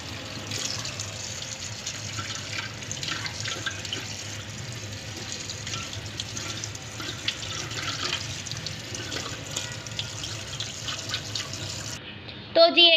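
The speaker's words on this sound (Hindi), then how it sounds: "इसको साफ़ पानी से वॉश कर लेना है अच्छे से" Steady broadband rush of running tap water, like rinsing something under a faucet, continuing evenly with a brief clatter near the end.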